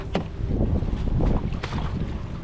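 A fishing boat on the open sea off Sarangani, with steady rushing wind and water noise and a few sharp knocks over a constant low rumble.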